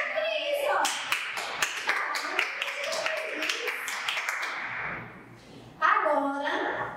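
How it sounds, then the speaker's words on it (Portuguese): Young children in a preschool class game clap in a quick, uneven burst of sharp hand claps for several seconds, with children's and adults' voices mixed in before and after. "palmas pra tia Cris"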